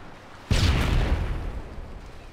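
A single loud grenade explosion booms in a first-person shooter game, a sudden close blast after a quiet moment that rumbles and decays over the following two seconds.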